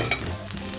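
A venison birria taco tortilla, dipped and topped with meat, cilantro, onion and cheese, cooks on a griddle with a brief, steady, quiet sizzle.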